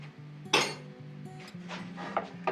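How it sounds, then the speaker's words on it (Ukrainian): Clanks and scrapes of a heavy cast iron frying pan being lifted, with a sharp knock followed by several lighter clinks over a steady low hum. "Піднімаємо важку сковорідку."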